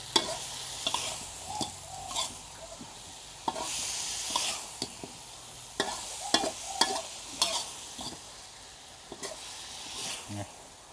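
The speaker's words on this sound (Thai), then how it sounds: "ขั้นตอนนี้มันต้อง ผัดนาน ครับ ผัดให้ผักมัน สลดอะ" Vegetables with spring onions and red chillies are stir-fried at length in a pan, an uneven sizzle with repeated scraping strokes and clatters of the spatula, loud bursts between quieter stretches.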